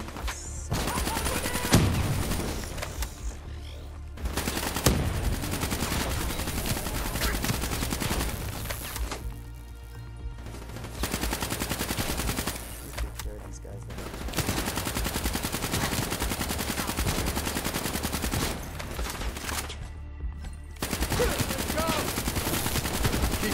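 Sustained automatic gunfire in the Black Ops 3 video game, dense bursts running almost continuously with brief pauses, loud and close, with occasional talk mixed in.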